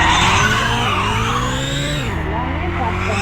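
A car engine running and pulling away, a steady engine drone with shifting pitch and some tire noise, loud and close throughout.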